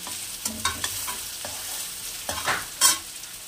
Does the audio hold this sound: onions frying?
yes